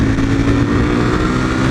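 Motorcycle riding along an open road, a steady loud engine drone with wind rush filling the whole moment, no voices.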